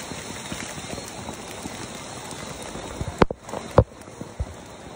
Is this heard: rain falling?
yes